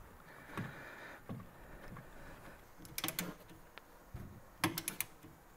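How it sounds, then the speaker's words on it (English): Metal clicks and ratcheting taps from a wrench tightening disc brake caliper bolts on a C3 Corvette, a few short quiet bursts spread across a faint background, with no talking. "Put them in and then torque them down to 50 foot-pounds."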